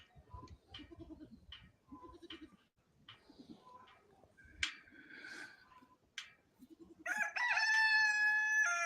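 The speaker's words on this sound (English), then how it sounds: "That rooster hates me." Rooster on a small farm with sheep and goats crows loudly and close near the end, after a quieter stretch of scattered farmyard bird and animal noises.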